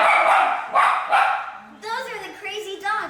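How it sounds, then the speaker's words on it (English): Two dogs bark loudly and close in a home kitchen, giving three sharp barks in a row, then breaking into higher, whining yelps. "Those are the crazy dogs."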